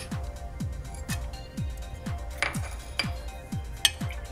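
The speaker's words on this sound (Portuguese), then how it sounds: "Vou mexer, vou mexer bastante para poder misturar a cachaça bem misturada com a nossa calda né, de açúcar." A spoon stirring cachaça with sugar syrup in a vessel, clinking against the side in a regular rhythm about twice a second, close and fairly crisp, with a few sharper knocks.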